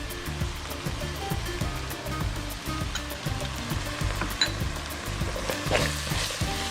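Onions frying in a pan with salt, garam masala and turmeric for chicken capsicum make a continuous, moderate crackling sizzle that runs over a repeating low thumping pattern.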